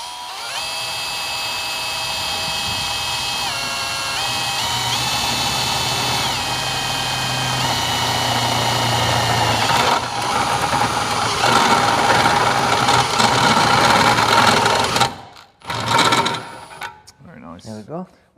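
A step cutter bores a 12mm hole through metal trunking, a steady high-pitched drilling whine that holds close and loud for about fifteen seconds, shifting pitch slightly as it bites, then cuts out into a few short bursts.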